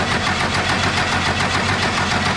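A Ford Galaxie V8 with a modified fuel system runs steadily, a loud, close, constant engine roar with a slightly uneven throb and no talking.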